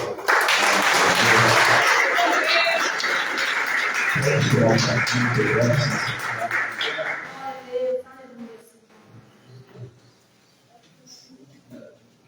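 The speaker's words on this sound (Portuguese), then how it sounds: "Vamos aplaudir." A church congregation applauds in a sustained crowd clap that fades after several seconds, leaving scattered claps and murmuring voices behind.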